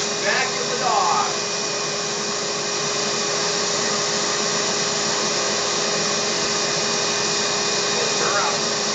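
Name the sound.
vacuum cleaner used on a dog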